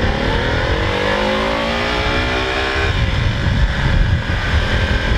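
A motorcycle engine drones loud and close while riding through Davao City, holding a steady revving tone that shifts in pitch partway through.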